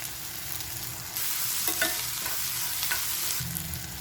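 Sliced shallots sizzle in a pan while being sautéed, a steady frying hiss broken by a few sharp spatula scrapes and clicks as they are stirred, with no talking.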